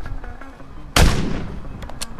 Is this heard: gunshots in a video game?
yes